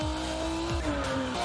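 Racing car in a video game trailer sweeping through a corner, engine droning steadily while tires squeal in sliding pitched tones, loud and close with no talk.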